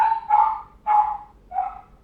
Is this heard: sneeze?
no